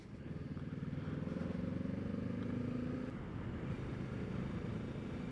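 Motorcycle running on a highway in winter, a steady low engine drone heard from the rider's own Kawasaki Ninja 650 along with another bike passing, fairly faint and continuous.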